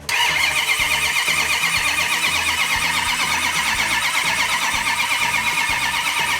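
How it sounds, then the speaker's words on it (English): An engine cranks over without firing, the starter churning in a steady, rapid rhythm that stays loud and close throughout. "Let's crank it over for a little bit"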